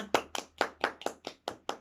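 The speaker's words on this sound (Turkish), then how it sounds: "Alkış kızıma." A few people clap for a young girl during a counting game at home, about nine separate close hand claps in an even, slightly slowing rhythm, with no talking over them.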